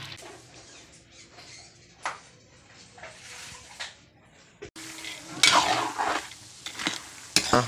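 A spatula stirs peanuts roasting in a pan, part of a 3-kilo batch for peanut butter, with irregular scraping and clinking strokes over a soft sizzle that grow louder and busier toward the end.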